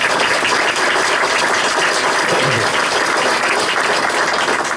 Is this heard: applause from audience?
yes